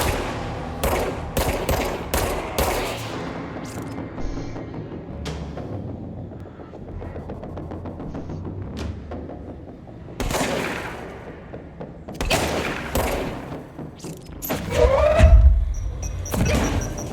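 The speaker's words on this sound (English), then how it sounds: "Shotgun is really stinking powerful." Shotgun blasts and other gunfire in the video game Control, sharp loud bursts in clusters with quieter stretches of game ambience between them.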